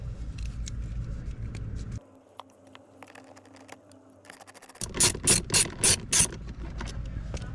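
A ratchet clicks in quick bursts as a small socket loosens the blower motor resistor bolts on a 2000-2007 Chevrolet truck or SUV. The close, sharp ratcheting comes in several rapid runs near the end, after quieter mechanical handling.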